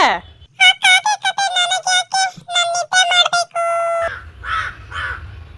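A series of harsh, closely spaced crow caws rings out nearby, several bursts in quick succession, followed by a few softer voiced sounds.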